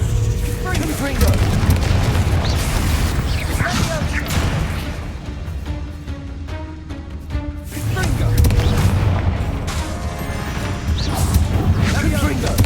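Repeated blasting-spell explosions from Hogwarts Legacy, a Confringo fire curse cast again and again in combat, landing as loud booming crashes in bursts over a dense, rumbling game soundtrack.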